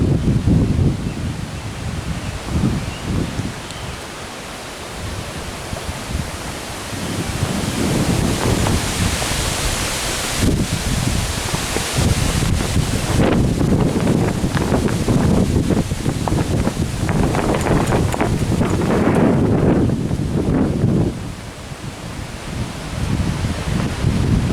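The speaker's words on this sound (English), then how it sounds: "the storm came through, and it was really some hard rain for just a second. It was really windy." Heavy wind buffets a campsite during a passing storm, with hard rain adding a dense, continuous roar that swells and stays loud for most of the stretch before easing slightly near the end.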